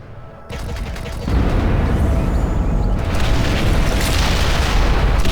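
Bombers destroying a Nexus in the strategy game Ashes of the Singularity, a quiet start giving way to a heavy, sustained barrage of loud booming explosions that builds and rolls on continuously.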